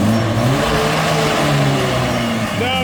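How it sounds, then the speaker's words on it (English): Mercedes 190E engine held at high revs during a burnout attempt, a loud continuous roar with pitch wavering up and down, close by, with voices talking over it. "Jamie's drunk and he's going to try a burnout"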